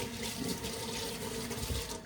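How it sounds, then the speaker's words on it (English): Running tap water rinses a matcha preparation tool, a steady close rushing and splashing stream that fills the whole moment without pause. "I'm just rinsing off my thing."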